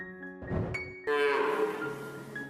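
A dairy cow moos at close range during a reunion with a little girl, with a long, loud, harmonic call starting about a second in and holding steady to the end, following shorter lowing sounds before it.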